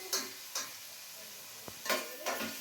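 Onions with turmeric stirred in a pan, a few short scraping strokes and light clicks of the spoon over a faint sizzle.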